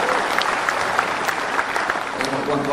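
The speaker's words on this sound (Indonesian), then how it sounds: "Kita berikan tepuk tangan gemuruh kerana ikhtizam beliau" A crowd at a Pakatan Rakyat political convention applauds in a sustained, dense wave of clapping, loud and even from start to finish, with voices faintly mixed in.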